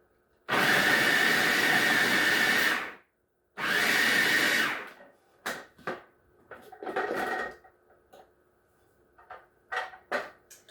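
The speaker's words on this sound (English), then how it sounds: "now we're going to pulse for about 10 to 12 seconds or until all the butter is kind of dissolved into the flour" A food processor pulsing butter into flour for puff pastry, two loud whirring motor bursts of about two seconds each, followed by softer clunks and short rattles.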